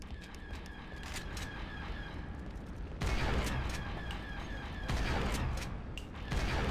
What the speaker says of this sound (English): now it starts shooting at me